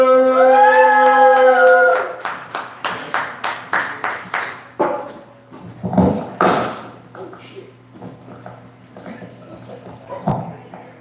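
A small audience at a comedy open mic applauds, opening with a drawn-out vocal cheer before a run of distinct, fairly even claps that thin out and grow sparser, with a few scattered claps and faint voices near the end.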